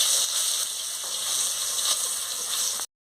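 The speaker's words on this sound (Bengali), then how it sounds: "এবার শুকনো লঙ্কা আর রসুন দিয়ে দিচ্ছি।" Dried chili and garlic sizzle in hot oil in a pan, a loud, steady frying hiss close by with no talk, ending abruptly in silence.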